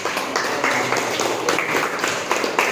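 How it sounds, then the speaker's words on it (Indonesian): A crowd claps steadily for a few seconds, dense and fairly loud applause without pauses. "beri tepuk tangan untuk"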